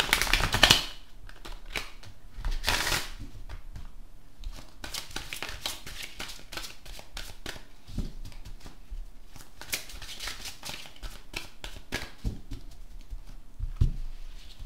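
Oracle cards being shuffled by hand, a quiet, steady papery riffling and slapping that runs throughout, with a few louder shuffles near the start and again around the middle, and no talking.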